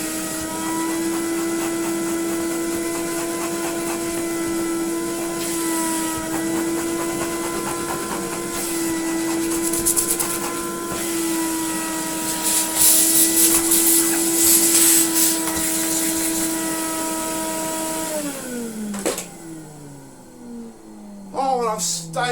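An Electrolux Automatic 345 vacuum cleaner runs with a loud, steady motor whine and airflow roar, some rattling partway through, then winds down as it is switched off, with a voice briefly heard.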